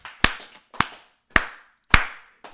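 Scattered claps from a church congregation, five sharp slaps spaced about half a second apart, close and fairly loud with brief silences between them.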